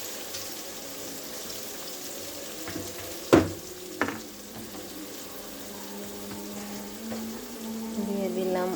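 Onion paste goes into chicken curry frying in a pan, with a sudden loud splat and burst of sizzling and then a steady crackle. A voice speaks faintly in the background.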